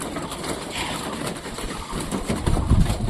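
Pigeons gathering to feed, soft cooing and fluttering over a low background rumble, fairly faint with a louder burst of movement near the end.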